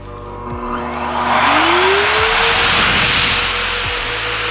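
An Adam's Polishes Air Cannon car dryer blower starts up and runs as a loud, steady rushing whoosh with a rising whine as it spools up. It continues close and constant with no talking.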